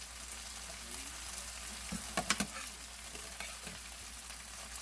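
Vidalia onion gravy sizzles softly in a pan while a utensil stirs it, with a few scraping clicks in the middle over a steady quiet frying hiss.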